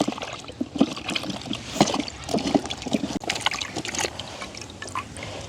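Whole eggplants are washed by hand in water, with close sloshing, splashes and trickles in an irregular rhythm.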